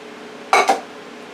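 Seasoned potatoes with onions and tomatoes dropped from a bowl into an olive-oiled pan, heard as two quick clattering knocks against cookware in otherwise quiet surroundings.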